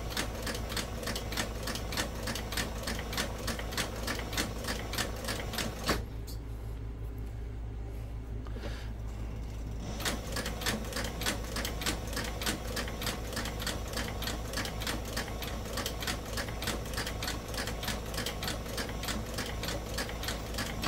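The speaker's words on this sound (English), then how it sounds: "it can cause the sewing machine to act a little goofy" A sewing machine stitching a leather belt runs steadily with rapid, even mechanical ticking, pausing briefly partway through before resuming at the same fast pace.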